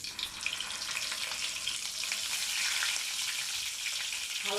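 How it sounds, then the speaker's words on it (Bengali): Stuffed pointed gourds (potol) fry in hot oil in a frying pan, giving a steady, close, bright sizzle that holds throughout with no talking. "এখন পটলগুলো ভেজে নিচ্ছি।"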